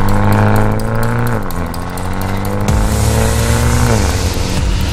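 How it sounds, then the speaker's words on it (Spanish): A 2020 Mini John Cooper Works Clubman with a 2-litre BMW turbocharged four-cylinder runs loud and steady, its engine tone rising and dropping through several rev changes with no voices over it. "el Mini John Cooper Works Clubman de 2020 debajo de su capó tiene un motor BMW de 2 litros, 4 cilindros y un turbocompresor Twin Scroll"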